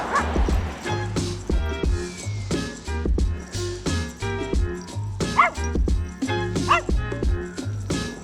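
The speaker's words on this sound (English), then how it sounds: "dogs finally stopped barking" Several dogs bark, yip and whimper in a rapid, irregular series of sharp yaps at close range, loud and continuous throughout, with occasional faint voices in the background.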